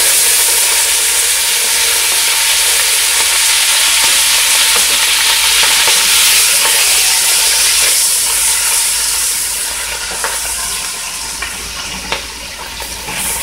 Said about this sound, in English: add in the pork, because the idea behind the pork now is to get the pork to fry up